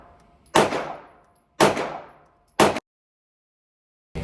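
Three sharp, loud Glock 19 pistol shots spaced about a second apart, each with a ringing decay, then near silence.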